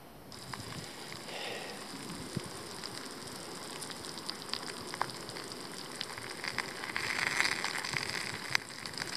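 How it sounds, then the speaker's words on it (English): A quesadilla sizzles in a frying pan at a lakeside camp in Ontario, a quiet steady crackle and hiss with occasional sharper pops, growing slightly louder toward the end. "I'm going to fry it up in the frying pan."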